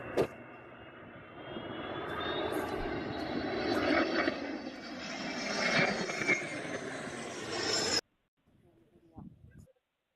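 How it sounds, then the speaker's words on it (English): A large military plane roars overhead near the Polish–Belarusian border, a loud sustained engine drone with a rising whine that swells as it draws closer, then cuts off abruptly before a brief faint burst of sound. "that's a big ass plane. You hear it getting closer as well."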